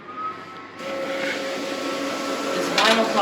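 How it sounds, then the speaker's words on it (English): Vinyl plotter cutting a stencil design for studio stencils, a steady mechanical whirring and hiss with shifting motor tones that swells after a quiet start and carries on close by without speech. "this vinyl plotter is basically like a printer, except instead of printing with ink, it cuts the design that I've done on the computer"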